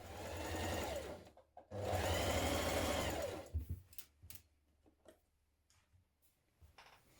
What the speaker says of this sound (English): we're going to stitch this seam in place with a 1 centimetre seam